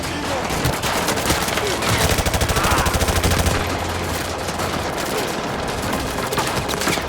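Rapid automatic gunfire from the Modern Warfare 2 video game, loud dense bursts with a steady machine-gun rattle across the whole clip, peaking in a sustained stretch near the middle.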